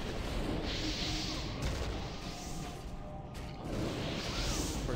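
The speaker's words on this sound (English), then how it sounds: "and then we'll have the Arcane Explosion." An Arcane Explosion spell goes off in World of Warcraft, broad whooshing magical bursts that swell, drop away and return, fairly quiet and mixed with soft game ambience.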